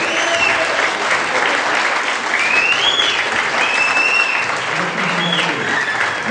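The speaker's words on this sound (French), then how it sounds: "on vous applaudit très très fort" Audience applauding loudly around a campfire show, steady clapping that fills the whole stretch, with faint whistles or cheers rising above it.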